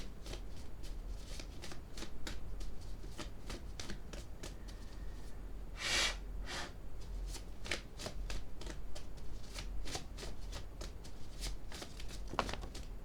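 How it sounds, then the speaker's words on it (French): Tarot cards being shuffled by hand, with rapid, continuous riffling and flicking close by, one louder burst midway where several cards slip and fall. "Trop de cartes qui sont tombées."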